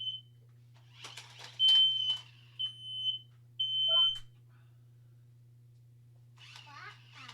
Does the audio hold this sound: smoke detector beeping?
yes